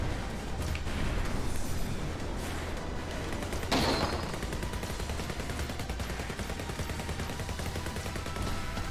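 Rapid gunfire from aircraft shooting at enemies in the aerial dogfight video game Wing of Darkness, a dense continuous rattle of shots over a steady engine drone, with one sharper burst midway.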